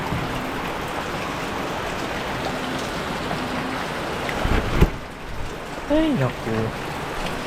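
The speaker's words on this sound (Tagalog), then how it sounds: "Lakas kasi ng ulan." Heavy rain pours steadily around a small hut, a dense, constant hiss throughout, with a brief clatter and a short spoken exclamation near the end.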